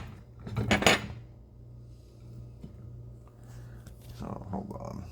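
A metal spoon scrapes against a dish as cast egg white is dug out, a loud clattering scrape at the start and a softer one near the end, with someone talking nearby.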